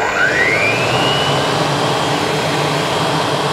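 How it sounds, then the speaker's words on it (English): An electric blower powered by a UDPower C500 solar generator spins up with a rising whine, then settles into a loud steady whoosh of rushing air, close by and without talk. "We'll take this, we'll plug it into our blower like that, and then we'll turn it on and we'll see if it works."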